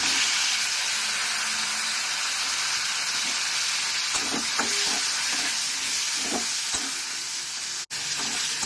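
Pieces of pumpkin sizzle in hot oil tempered with cumin seeds. A loud, steady frying hiss carries throughout, and scraping stirs of a spatula break through it near the middle.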